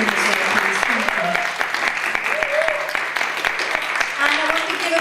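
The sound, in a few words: audience round of applause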